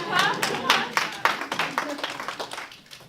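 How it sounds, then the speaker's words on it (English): Scattered, uneven clapping from a small audience at a Chicago salon on climate and design, a handful of hands tapering off over a few seconds, with a voice murmuring underneath. "You can clap. You can clap."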